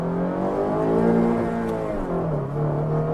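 A 2018 Honda Fit's 1.5-liter engine revving hard toward redline, a loud, strained drone held steady and climbing slightly in pitch, with no talking.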